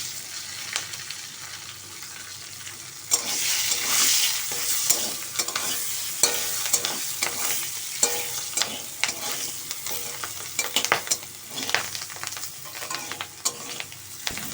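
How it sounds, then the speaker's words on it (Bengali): Chunks of taro frying in oil with salt and turmeric are stirred around a pan, a steady bright sizzle with repeated scraping strokes, close and continuous, no voices. "লবণ পরিমাণ মতন, হলুদ দিয়ে আবার একটু নাড়ছি।"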